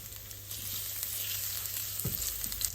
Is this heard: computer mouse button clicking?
no